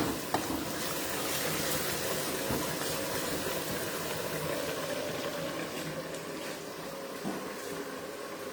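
Saag browns in a hot pan with a steady, dense sizzle that carries on without a break. Occasional scrapes of stirring are faintly audible under the frying.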